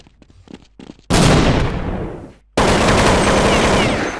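Assault rifle fire in an online shooter game: two long, loud, rapid automatic bursts, close and dense, separated by a brief pause, with some faint clicking beforehand.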